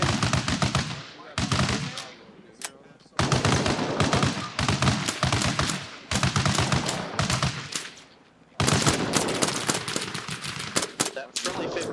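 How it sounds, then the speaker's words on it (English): A friendly .50 caliber machine gun rips off long, continuous bursts close overhead during a military field training exercise, loud and dense, with brief gaps between strings of fire. "That friendly 50 is firing right over us."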